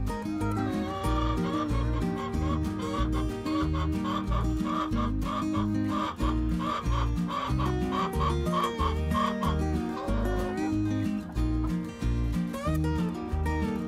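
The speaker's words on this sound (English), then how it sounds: "There were also free-range chickens on the grounds." Free-range chickens on the grounds of Island Farm in Manteo, North Carolina, cluck steadily in a busy, overlapping chorus, with an occasional rooster-like call rising above. Near and continuous with no talking.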